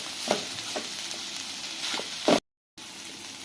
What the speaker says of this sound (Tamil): இப்போ கொத்தமல்லி சேர்த்து ஃப்ரை பண்ணிக்கலாம்.